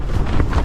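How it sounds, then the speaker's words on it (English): Strong gusting wind buffets a campsite on a fell above Langdale, a loud close roar rumbling against the microphone without a break. "The wind's unbelievably strong."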